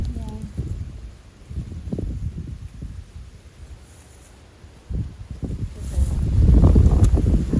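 Strong wind buffets the microphone outdoors near the water, roaring in loud rumbling gusts that swell toward the end, while people talk in short stretches.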